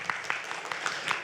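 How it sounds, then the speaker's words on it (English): Brief patter of audience applause at an Asia Pacific social innovation summit forum, a few soft separate claps over a bed of room noise, faint and short. "please give a round of applause"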